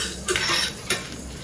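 Whole spices and cashews — black pepper, dried red chillies, cinnamon, cloves and cardamom — being dry-roasted in a pan for Madurai-style mutton curry, with two short bursts of scraping and stirring over a soft, steady background.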